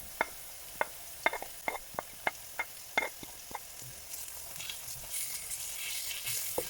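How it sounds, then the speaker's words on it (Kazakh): Grated carrots frying in a pan: a string of sharp spatula taps and scrapes at first, then a rising, steady sizzle that grows louder toward the end. "Бұны да жақсылап қуырып аламыз."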